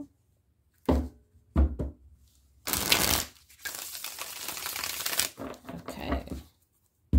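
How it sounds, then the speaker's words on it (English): Tarot cards shuffled by hand during a love reading: several short riffles and taps, then a longer sustained shuffle of papery rustling, close and fairly loud, with no voices. "All right, one more shuffle."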